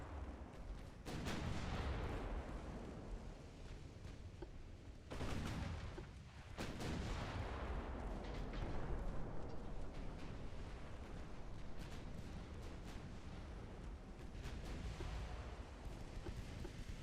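Heavy naval gun salvos boom out in the warship battle game Ultimate Admiral: Dreadnoughts, several loud broadband blasts with rumbling tails rolling through a sustained din of distant gunfire, no talking.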